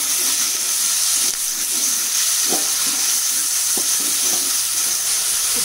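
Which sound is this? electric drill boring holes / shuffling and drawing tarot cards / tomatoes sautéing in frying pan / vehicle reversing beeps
tomatoes sautéing in frying pan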